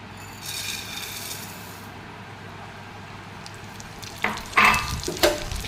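Vermicelli fries in ghee for semiya kesari, a low steady sizzle with soft stirring, followed by louder scraping and clattering of a spoon against the pan near the end.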